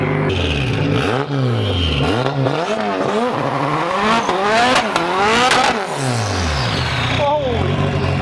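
A 600 HP KA24DET-powered car does a loud driveway burnout, its engine revving hard in rising and falling sweeps with bursts of tire squeal and clatter, continuous and close throughout.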